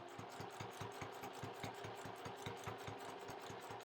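A sewing machine machine-quilts at slow speed, its needle thumping in a steady, even rhythm of roughly four stitches a second with a faint motor hum underneath, close and alone.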